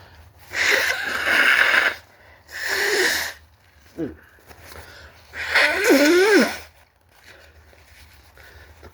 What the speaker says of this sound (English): blow my nose for a second